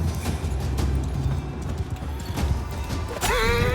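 A warhorse in Mount & Blade II: Bannerlord combat thuds along with rapid hoofbeats amid clashing battle noise, ending in a loud, close whinny.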